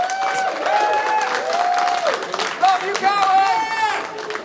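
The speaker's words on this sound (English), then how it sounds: "Round of applause for Randland TV Podcast, everyone." Audience applause and cheering at a live podcast show broadcast from JordanCon, a fan convention, with crowd noise and some voices rising over a steady clapping wash throughout.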